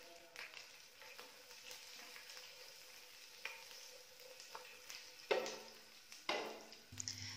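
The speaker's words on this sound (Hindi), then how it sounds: "लाइट ब्राउन हमने ये लहसुन के जवों को फ्राई कर देना है।" Garlic cloves frying light brown in a pan, giving a steady soft sizzle throughout with a few louder crackles and stirring clatters near the end.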